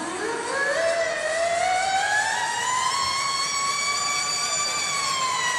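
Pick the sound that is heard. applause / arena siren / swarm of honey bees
arena siren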